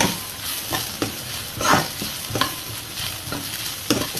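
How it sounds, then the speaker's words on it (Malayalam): Onions sautéing in a pan with salt and curry leaves give a steady close sizzle, broken by repeated scraping strokes of a stirring spoon about every half second. "സബോള ഒരുമാതിരി വഴന്നുകൊണ്ടിരിക്കുന്നു."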